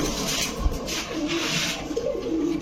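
Pigeons cooing in a pigeon shop stocked with punky, racer, Lahori and Bombay breeds, a steady low murmur of several birds close by with no talk over it.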